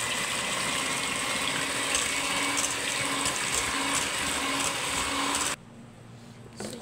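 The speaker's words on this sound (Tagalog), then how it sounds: "So, blend muna natin." Chocolate cake batter churns in a running electric blender: a loud, steady whirring hum with a wet, sloshing hiss runs for over five seconds, then cuts off abruptly, leaving faint room noise.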